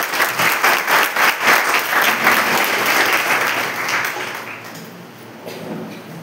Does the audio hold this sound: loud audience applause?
yes